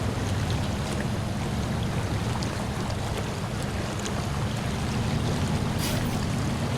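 A truck fords a river in the game SnowRunner, crawling in low gear with diff lock engaged, producing a continuous loud low rumble mixed with rushing, sloshing water that stays steady and close.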